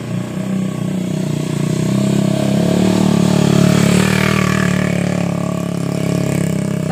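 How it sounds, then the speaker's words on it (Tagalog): A motorcycle engine hums steadily nearby, rising slightly in the middle as it passes, with no talking. "May dadang motor."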